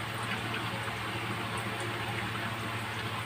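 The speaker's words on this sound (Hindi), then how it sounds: "नॉर्मल पानी से वॉश कर लीजिए" Plain water splashes and runs steadily as a face is washed, a close continuous watery rush with no breaks and no talking.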